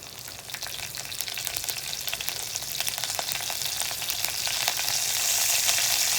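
Asafoetida and curry leaves sizzle in hot oil, a loud crackling and spitting fry that runs continuously and grows more intense toward the end, close by with no voices.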